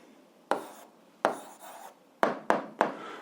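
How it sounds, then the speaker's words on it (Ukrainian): Handwriting an answer with a pen or marker, five short scratchy strokes in an uneven rhythm, each starting sharply and trailing off, close and quiet with no speech. "Записуємо відповідь."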